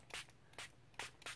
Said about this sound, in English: You can even spray your page so the paint won't soak immediately in